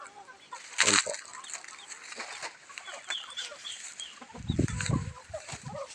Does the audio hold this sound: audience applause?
no